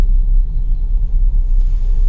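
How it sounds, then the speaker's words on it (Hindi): A car rolls to a stop and is parked outside a farm house, heard as a loud, close, low engine rumble that holds steady for a couple of seconds with no talking. "और मैं गाड़ी लगा देता हूँ।"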